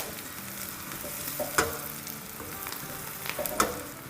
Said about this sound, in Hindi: अब इसके साथ 2 मिनट भूनेंगे ताकि लहसुन और हरी मिर्चें भी सुनहरी हो जाए